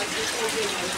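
A steady, close wash of rain pours down on an outdoor street vendor's stall, an unbroken hiss with a slightly watery texture.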